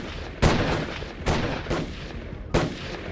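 Gunshots ring out in a street as attackers fire at an Innova car, with three sharp, loud reports spaced about a second apart over a constant harsh roar of background noise.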